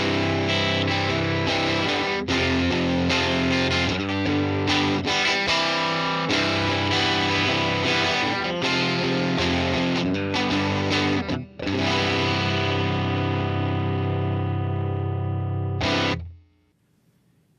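An electric guitar plays through a Fender Tone Master Pro's UK30 Normal amp model, based on the Vox AC30 normal channel. Strummed chords and riffs come through loud and crunchy with driven distortion, then ring out to silence.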